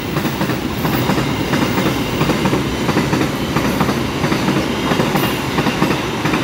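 An empty cement freight train of flat wagons rolls straight through Ujungnegoro station in Indonesia, wheels clattering in a steady rhythmic clickety-clack, loud and close throughout.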